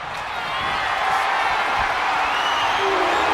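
In a WWE 2K25 wrestling video game match during a King of the Ring tournament, the arena crowd cheers in a steady, loud roar that swells slightly and holds throughout.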